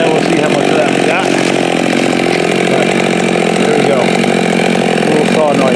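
A chainsaw used for tree felling runs continuously at full throttle, a loud, close, buzzing engine whine that holds steady with slight wavering for the whole stretch.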